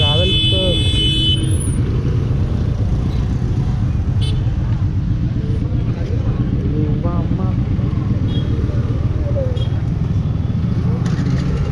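Road traffic on the route from Ananthagiri hills toward Nizamabad hums and rushes steadily nearby, with vehicle engines passing beneath ongoing conversation.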